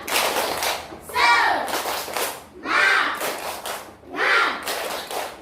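Schoolchildren in a classroom perform a 'tepuk semangat' clapping chant: three loud bursts of chanted voices, each with sharp rhythmic claps between them, close and lively.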